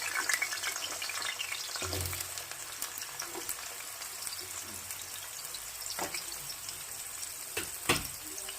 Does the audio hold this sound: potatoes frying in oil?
yes